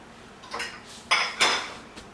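Dishes clattering in a kitchen during dishwashing, with a few sharp clinks and clunks of plates and cutlery at uneven intervals, close by and without voices.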